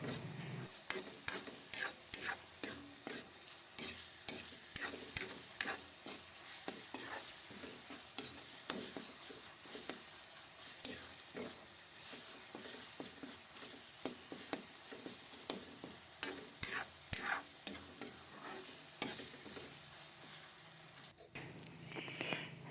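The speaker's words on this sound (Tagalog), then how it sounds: "Ayan guys, haluin na natin ito." Spoon stirring kare-kare with pork hock in a cooking pot, a repeated scraping and clinking rhythm over a soft background sizzle, close and moderately quiet, with no talk.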